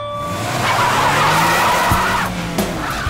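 Race cars speeding off from a start line in a story soundtrack, a loud continuous roar of engines with squealing, skidding tires and a couple of sharp whooshes as the cars pass.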